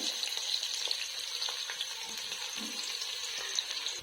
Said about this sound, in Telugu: నూనె కాగిందండి మరి నూనె కాదు ఫస్ట్ మొట్టమొదటిసారి అయితే ఉల్లిగడ్డలు కలిపి పెట్టుకుని ఉల్లగడ్డలు వేసుకుందామండి